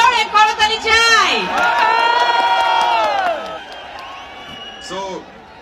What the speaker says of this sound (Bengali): একটা জোরে করতালি চাই।